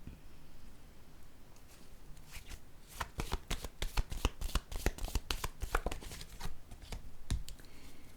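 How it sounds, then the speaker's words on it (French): Tarot cards being shuffled and drawn by hand, a quiet rustle that turns into a dense run of crisp, rapid riffling snaps and flicks close to the mic, with no talking. "j'ai le goût de piger une carte pour elle ici"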